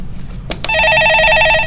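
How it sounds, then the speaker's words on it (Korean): A telephone rings for an incoming call, a close, loud trilling electronic ring that starts after a couple of brief clicks and continues steadily. "예, 전화 받아보겠습니다."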